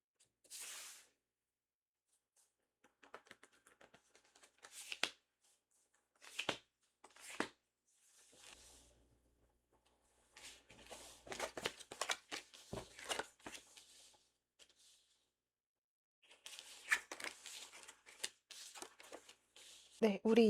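Tarot cards being shuffled and drawn, heard as soft, scattered riffling and flicking bursts separated by quiet gaps, faint and close, with someone speaking intermittently between them.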